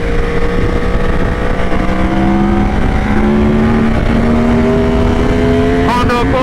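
A sport bike accelerates hard past a Honda Accord, its loud engine note climbing steadily in pitch over a dense roar of road and wind noise, with a brief sharper burst near the end.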